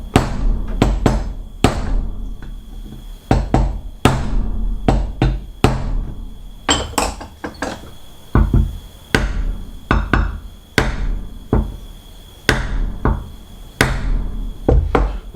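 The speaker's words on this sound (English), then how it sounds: "give them a bit of a smack with a screwdriver, with a hammer" A hammer smacks a Zenith carburetor from an Allis Chalmers Model EB tractor, giving sharp metallic knocks in irregular bursts of two or three, close and loud, with small clatters between blows.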